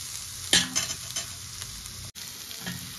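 Spatula stirring spices into onions and capsicum frying in a pan, a constant hissing sizzle with a few scraping strokes of stirring near the start and the end.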